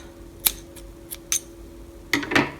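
Scissors snip through crochet yarn in a few short, crisp clicks spaced apart, with a final cluster of quick metallic cuts, close and fairly quiet.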